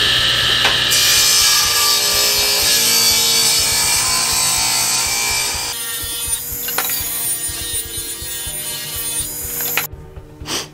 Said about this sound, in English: we're cutting 8 pieces of walnut to make the base and the frame for the lid